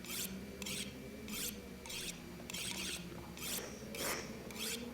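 A tool is sharpened in the video game The Long Dark, giving repeated rhythmic rasping strokes, about eight evenly spaced scrapes, each bright and gritty, at a moderate level against a quiet background.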